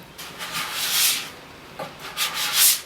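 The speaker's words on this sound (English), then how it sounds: "So you want to actually pull like this. You want to scrape it." Plastic scraper dragged firmly along a waxed snowboard base, lifting excess wax in several close rasping strokes, with short pauses between pulls.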